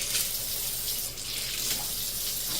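Hot water runs steadily from a tap into a sink basin, a continuous close splashing rush with no voices.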